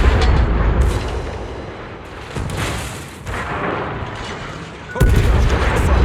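Heavy cruiser naval guns fire in a World of Warships battle of the Des Moines, loud booming salvos at the start and near the end, with rumbling explosions and battle noise between them.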